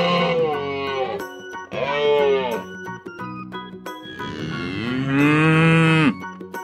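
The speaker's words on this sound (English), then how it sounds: "Cow." Cattle moo in a series of long, loud, close calls, several drawn-out lows separated by short pauses, with the last call the longest and strongest. No talking is heard.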